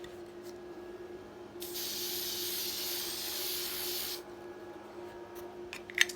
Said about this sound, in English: find a product exactly like this with the exact ingredients and just spray it on like so